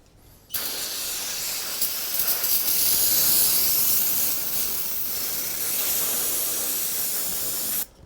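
A spray can of cleaner hisses in one long continuous blast while cleaning a Fox Podium shock part, loud and steady until the can runs empty and cuts off.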